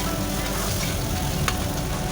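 Slit green chilies frying in a little oil for a vegetable curry give a steady, close crackling sizzle that holds even throughout, with one brief sharper pop partway through.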